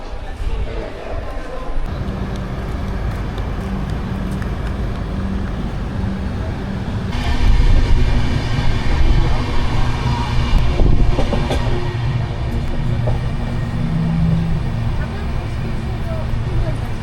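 Train rumbling on rails on the way from Moradabad toward Tundla, a steady loud low roar with rattling carriages that grows heavier partway through, with voices over it.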